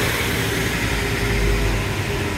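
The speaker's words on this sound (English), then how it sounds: "Noisy bus." A noisy bus passes along a seaside town street, a loud, steady low engine rumble with broadband road noise that swells slightly mid-pass and carries on without any voices.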